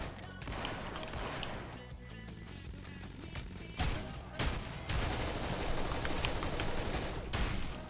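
A double barrel shotgun firing in Tower Unite's gun game mode on the Meadows map, with loud, booming blasts every second or two amid a busy mix of other gunfire and game noise.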